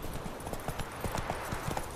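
Horse hooves clopping in The Witcher 3, a steady run of muffled beats over a dense, noisy game soundscape; no clear neigh stands out.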